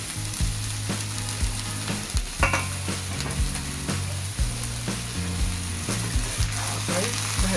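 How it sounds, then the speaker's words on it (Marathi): Radish bhaji sizzles steadily in a hot pan while a spoon stirs it, giving repeated scraping knocks over the continuous frying hiss. "भाजीला परतून घेऊया."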